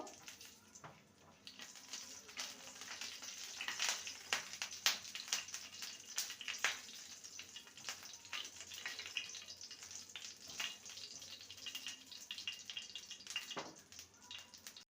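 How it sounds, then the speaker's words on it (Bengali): Whole cloves, cardamom, cinnamon and a torn bay leaf fry in hot oil with cumin seeds for an egg curry, giving a steady crackling sizzle with sharp pops throughout, close and moderately loud, with no talking. "লবঙ্গ এলাচ দারচিনি আর একটা তেজপাতা দু টুকরো করে দিলাম ফোড়নটাকে কয়েক সেকেন্ড ভেজে নেব"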